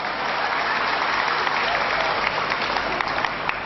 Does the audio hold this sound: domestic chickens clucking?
no